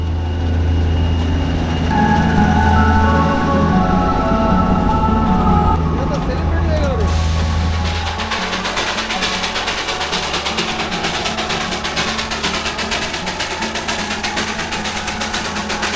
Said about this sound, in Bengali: आ गया हम लोगों का टॉय ट्रेन